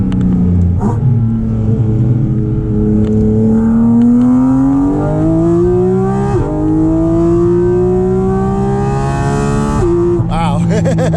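Porsche Cayman GT4 RS engine in the cold, heard from inside the car, climbing through the gears toward 9,000 RPM: loud, rising howls broken by brief dips at each gear change, building to a sharp scream.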